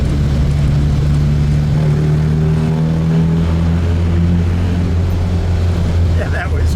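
A white 1960 Fiat 1500S OSCA coupe drives through a tunnel, its engine droning loud and close with a steady, resonant tone that swells slightly as it pulls.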